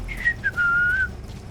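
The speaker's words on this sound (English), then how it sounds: "You can whistle either way" A Metal Gear Solid V: The Phantom Pain character whistles a short, sliding tune, a few chirps and then one sustained note, clear and close over a low rumbling background.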